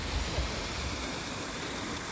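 A small mountain waterfall in Colorado's Holy Cross Wilderness rushes steadily, a broad, constant wash of falling water filling the space close by with no voices over it.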